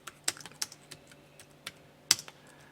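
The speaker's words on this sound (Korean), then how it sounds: "영문 그대로 입력을 해주겠습니다." Someone types on a computer keyboard while entering English text into a word processor: sparse, irregular key clicks, a few sharper strikes, close by and fairly quiet, with no speech.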